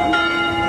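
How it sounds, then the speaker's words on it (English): A church bell rings out over a busy shopping street in Cologne, Germany, a brief sustained metallic tone with lingering overtones, loud and close. "Bell's going off."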